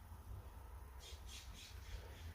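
A crow squawks several times in a quick series of rough, harsh calls at moderate distance, set over a steady low rumbling background.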